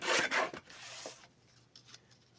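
Blade slicing through an album cover along a straight edge, a quick close rasping cut lasting about a second, then faint rustling.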